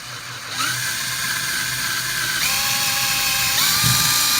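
A power drill bores a hole through wood for a Damascus knife handle, its motor whine stepping up in pitch a few times as the bit bites, close and loud.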